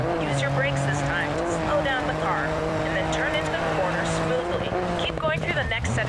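A rally car engine in the DiRT 4 racing game hums steadily with tire noise as the car slows, while a voice talks over it throughout.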